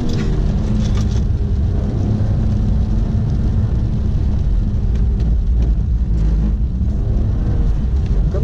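A stock BMW 135i with no limited-slip differential drifting, its engine a loud, steady, rumbling drone heard from close by, with wind and road roar mixed in throughout.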